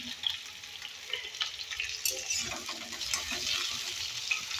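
Potatoes sizzle in hot oil in a home kitchen, a constant crackling fry broken by scraping stirs of a spatula, fairly quiet and with no talking.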